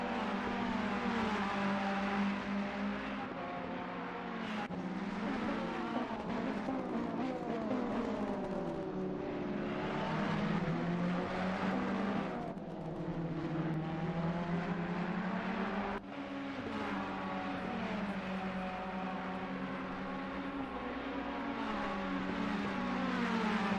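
Ferrari race cars in the racing game Assetto Corsa Competizione roar steadily around a track, engines revving up and down through gear changes and corners in a continuous, loud, layered drone.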